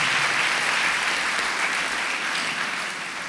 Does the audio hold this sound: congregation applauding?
yes